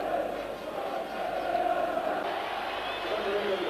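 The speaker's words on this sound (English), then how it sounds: "And listen to the crowd" Large football crowd at a third division match in the 1987-88 season, a broad steady roar after the final whistle with a few fans spilling onto the pitch, continuous and distant-sounding with no clear individual voices.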